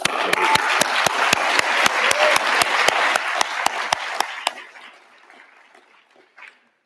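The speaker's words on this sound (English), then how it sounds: "Can we have one more round of applause?" A conference closing-session audience applauds, the dense clapping punctuated by sharp, evenly spaced loud claps, then dies away after a few seconds into near silence with one brief faint sound near the end.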